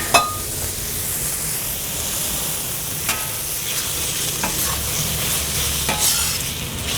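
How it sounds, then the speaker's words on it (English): A beef and broccoli stir fry is stirred with sauce in a hot pan, giving a steady sizzle with scraping and clinking spoon strokes near the mic and no talking. "I'm going to put the sauce in there and stir that up again."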